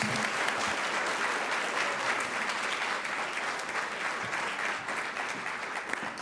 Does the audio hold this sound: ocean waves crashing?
no